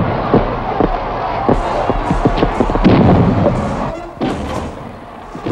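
Fireworks set off for a royal birthday celebration in a period film, a series of dull thumps and booms over a noisy crowd murmur, loud and continuous throughout.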